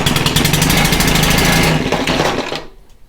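A Stihl KM130R engine pull-started at full throttle roars loudly and close in a fast, buzzing two-stroke run, then sputters and dies away after about two and a half seconds, leaving near silence.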